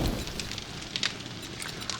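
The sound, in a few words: campfire crackling in the video game 7 Days to Die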